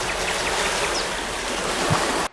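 Surf crashes along a volcanic coastline in the Galapagos, a dense, loud, unbroken wash of breaking ocean waves with no voices.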